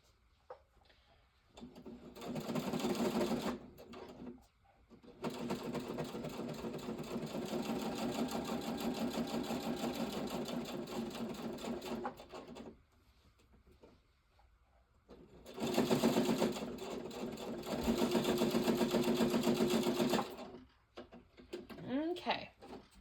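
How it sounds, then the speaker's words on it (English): A sewing machine stitches in rapid mechanical bursts, three long runs of steady whirring and clatter separated by pauses, close and clear, with brief faint talk between runs. "You did pretty good, little sewing machine."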